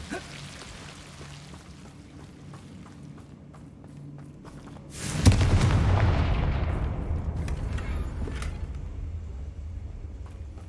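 A Confringo fire spell in Hogwarts Legacy bursts with a sudden loud blast midway, followed by a long roaring, rumbling decay, after quieter scuffling footsteps and faint small impacts.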